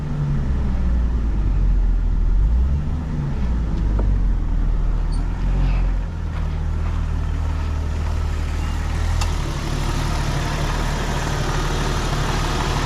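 A Jeep Cherokee engine runs hot near 210 degrees with a radiator hose leak, its steady low rumble and whooshing radiator fan clutch engaging, loud and close with no talk.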